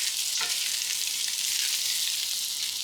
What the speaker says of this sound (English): Mix onions with the oil.